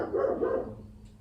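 A dog barks nearby, two quick loud barks run together and then fade out.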